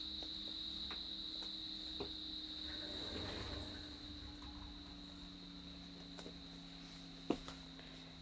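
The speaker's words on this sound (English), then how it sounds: "I hope you can't hear all the crickets because there is a lot of crickets outside" Steady crickets chirping outside a window in a continuous high drone, with a few faint clicks and knocks nearby; no talking.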